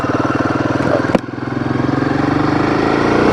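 Royal Enfield Himalayan 450 motorcycle underway, its single-cylinder engine thumping in a rapid close pulse, a brief clatter midway, then climbing steadily as it revs back up.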